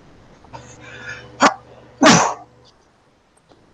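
Sharp, sudden sneezes indoors on a hot morning with allergies, two loud close bursts about half a second apart, against a faint background hum.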